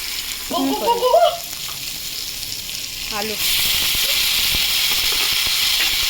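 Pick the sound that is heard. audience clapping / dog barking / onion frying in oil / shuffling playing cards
onion frying in oil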